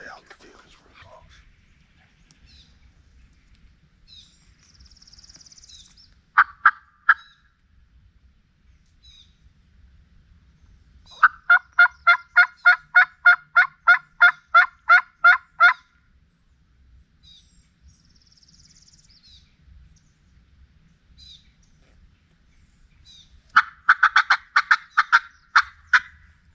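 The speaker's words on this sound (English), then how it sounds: "They gobble." Wild turkeys gobble out in a field in Florida, giving two rapid rattling bursts at moderate distance over an otherwise hushed outdoor background with a few soft clicks.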